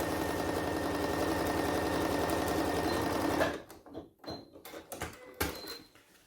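A sewing machine stitches a seam on comfy pants with a 1 cm allowance, running in a fast, steady buzz for about three and a half seconds before stopping, followed by a few faint handling clicks.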